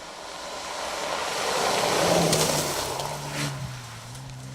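Rally car on a Cambrian Rally special stage, with its engine note rising and falling over a steady broad roar as it drives through, at moderate distance and without speech.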